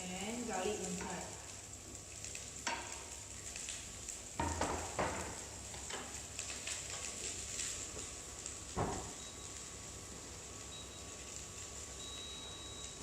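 Onion and garlic fry in a big pot on an induction cooker while preparing nasi lemak, a faint, steady sizzle with scattered scrapes and clinks as they are stirred, under a person talking nearby.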